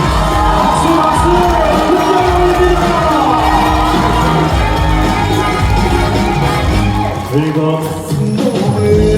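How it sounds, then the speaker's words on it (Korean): An audience at a trot concert at Chungju Culture and Arts Center claps, whoops and cheers loudly and continuously over live music, a dense roar of crowd noise that dips briefly before swelling again. "박수 박수"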